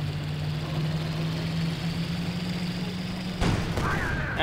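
A King Tiger tank in Company of Heroes 2 rumbles forward with a steady low engine drone and faint clanking, before a sudden sharp burst of noise near the end.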